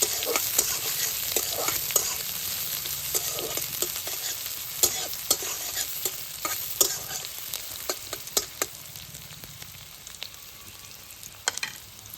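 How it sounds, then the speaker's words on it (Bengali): Chopped onion, bay leaf and green chili frying in hot oil, a continuous close sizzle punctuated by frequent scraping and stirring clicks of a spatula in the pan. "পেঁয়াজগুলিকে আমি একটু ভেজে নেব।"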